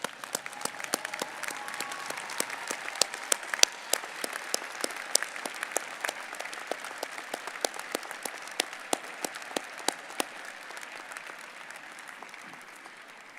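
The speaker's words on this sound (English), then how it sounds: "please rise and give your parents, family, friends, and other supporters a thunderous round of applause and standing ovation" Graduates at a university commencement ceremony rise in a standing ovation, their applause a broad, moderately distant clatter with crisp individual claps standing out and slowly thinning toward the end.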